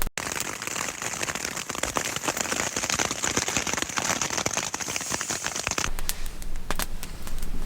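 Heavy rain pours down in the Montana backcountry, a dense, steady hiss with sharp drops pattering on a nearby surface, easing slightly toward the end.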